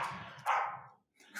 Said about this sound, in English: My dogs are here and they want to weigh in as well.